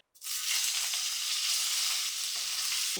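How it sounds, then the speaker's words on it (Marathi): Loud, steady sizzling of paneer frying in ghee, starting abruptly and continuing evenly without any voices. "पनीर आपल्याला तांबूस रंगावर तळून घ्यायचं"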